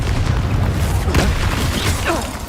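Confringo blasting spell explosion in the Hogwarts Legacy video game, a loud sustained rumbling boom with crackling debris and low-end roar filling the whole moment.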